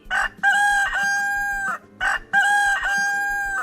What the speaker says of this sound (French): Une arrivée annoncée par le coq à Jean-Paul